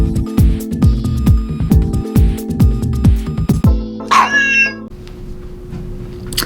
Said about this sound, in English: This is Mrs. Spock's adorable cat, Tinkerbell, or Tink for short.